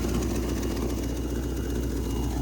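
Abandoned 1970 V8 Mustang engine running steadily after decades of sitting, a loud, close, rough idle with a continuous low rumble and no voices.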